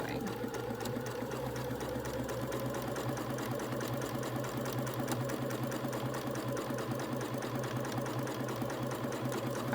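A sewing machine stitches a fabric face mask in a steady, continuous whir with a fast mechanical needle rhythm, running close and even throughout.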